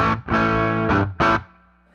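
Electric guitar with hot pickups through a cranked Fender Super Reverb amp, a few loud distorted chords with a gap and a short stab, ending in a fading ring.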